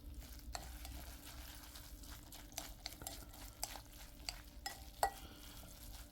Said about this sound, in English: Let me give this a quick stir.